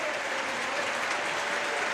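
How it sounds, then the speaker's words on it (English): A football stadium crowd at a Barcelona versus Mallorca match applauds a substituted player, a steady, even wash of distant clapping that carries through the whole stretch without a break. "Griezmann getting the applause"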